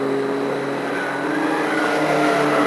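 A 2002 MINI race car in a celebrity challenge race, its engine revving steadily as it drives around the track, fairly close and continuous.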